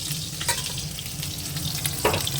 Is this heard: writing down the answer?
no